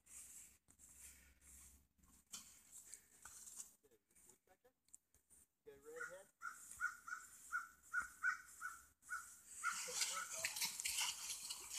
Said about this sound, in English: Is that a bird down there?